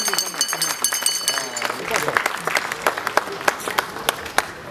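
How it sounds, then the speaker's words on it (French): Loud, dense clapping breaks out from an audience at a memorial ceremony for a Congolese comedian, sustained and close, with a voice speaking over the start. "Est-ce que vous pouvez applaudir très très fort"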